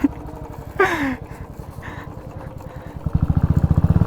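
A scooter engine putters at close range while riding on a slippery road in Gundu, Bhaktapur, with a steady pulsing idle-like thrum that grows louder and more rapid toward the end, plus a brief higher squeal early on.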